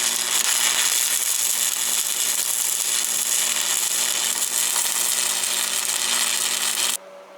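A Lincoln stick welder lays a short stitch weld while repairing a broken wood splitter, giving a steady close crackling sizzle that runs for about seven seconds and then stops abruptly.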